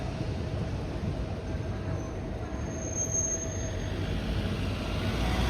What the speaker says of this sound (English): I'm so excited to have Porto trams back on again.